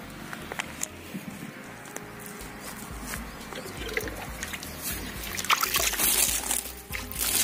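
Water is poured over sandalwood seedlings in nursery bags, a soft continuous trickling and splashing heard close by, with a faint voice in the background.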